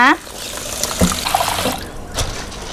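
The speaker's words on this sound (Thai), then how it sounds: "เดี๋ยวเปิดน้ำล้างนะคะ" Tap water pours to rinse split soybeans in a bowl, a close, steady splashing stream that begins just after a brief spoken voice.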